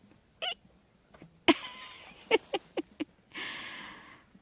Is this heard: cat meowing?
yes